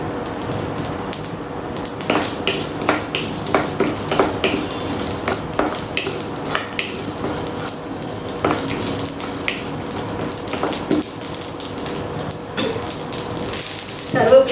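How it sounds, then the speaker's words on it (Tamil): Mustard seeds and fenugreek fry in hot oil in a pan for an okra buttermilk curry, giving a soft continuous sizzle with scattered pops and clinks of utensils under a voice talking throughout. "அதில் இந்த கடுகையும் வெந்தயத்தையும் போட்டு நம்ம வதக்கிடலாம்"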